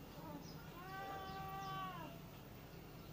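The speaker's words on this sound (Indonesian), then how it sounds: "Ini ada kucing." A cat gives a single drawn-out meow, rising then falling, against a quiet background with soft chatter.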